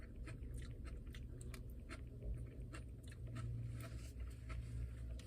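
Someone chews a crunchy Dickey's BBQ beef brisket sandwich with KFC-style breading, close up, giving a steady run of soft crunches and bites over a low continuous background hum.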